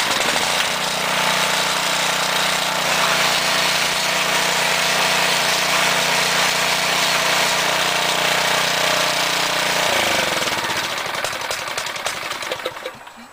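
A small gasoline garden tiller engine runs loud and close with a steady rapid chugging drone, then its pitch shifts and the engine winds down near the end.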